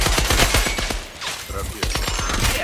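Rapid bursts of gunfire from the video game Scavengers, loud and dense automatic shots clustered at the start and again near the end, with a voice speaking underneath.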